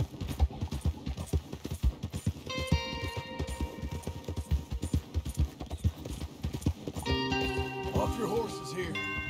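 Horse hooves clip-clop in a steady rhythm in the Western video game Red Dead Redemption 2, heavy and close, with a riding score and game effects layered over them toward the end.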